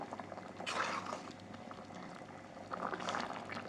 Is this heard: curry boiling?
yes